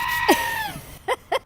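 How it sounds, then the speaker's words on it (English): A mother goat from a party-goat herd in Los Angeles lets out a harsh, scream-like cry, then two short sharp calls close together near the end, loud and close with no talking. "Have you heard of a goat make that sound before?"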